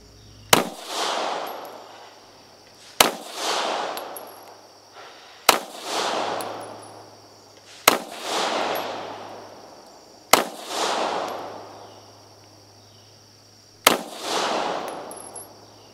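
Six loud, sharp pistol shots ring out one at a time, about two to three seconds apart, each with a ringing echo trailing off, fired side by side from a Beretta APX A-1 and a Taurus GX4 with 124 grain ammunition.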